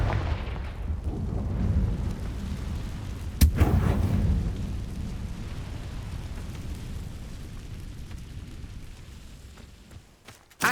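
In the Hogwarts Legacy video game, a Confringo fire spell explodes with a deep rumbling boom: one sharp blast near the middle over continuous low roaring, and a second sudden burst right at the end.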